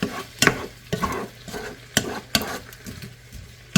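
Breakfast burrito filling stirred in a hot pan while it sizzles and fries, with a spoon scraping through it in several distinct strokes over a steady crackle, close and fairly loud.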